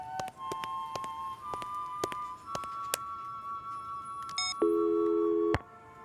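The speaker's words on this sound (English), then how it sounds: "The line is dead." A telephone receiver on a dead line gives electronic tones in a cartoon: a steady series of beeps and dial-tone hums with clicks, ending in a louder low buzz, with no one speaking.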